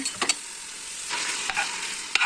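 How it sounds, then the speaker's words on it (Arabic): Onion and garlic fry in a cooking pot, a soft steady sizzle broken by a few scraping stirs near the start and end, close and fairly quiet with no voices. "كنحركو باش ما تلصقناش هاديك البصلة والثوم"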